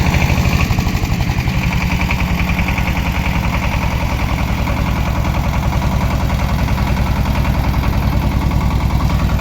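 A motor cultivator tills soil for greenhouse beds, its small engine chugging steadily and loudly nearby with a fast, even rhythm throughout, no voices.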